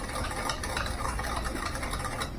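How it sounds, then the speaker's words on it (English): Flour, sugar and cinnamon are stirred together in a bowl, making a close, continuous dry scraping and rustling with no pauses and no speech. "we're going to mix that all up right here"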